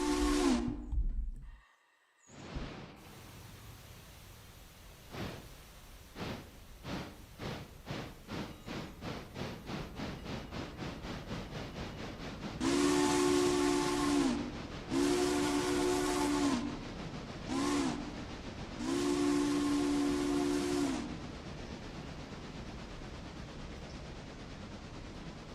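Steam locomotive departing in the railroad game Railroader: a hiss of steam, then chuffs that speed up steadily, followed by four loud blasts of the steam whistle, the last one held longest.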